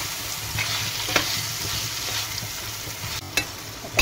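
Potatoes fry in a pan over low gas, giving a steady close sizzle with occasional stirring scrapes and a couple of sharper clinks near the end.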